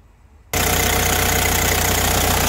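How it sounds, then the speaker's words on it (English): A car engine starts suddenly and settles into a loud, steady idle with an even low rumble, very close to the microphone. "as you can tell, the engine is running"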